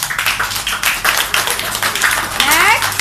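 Children in a school classroom clap their hands together, brisk overlapping claps mixed with lively young voices and chatter.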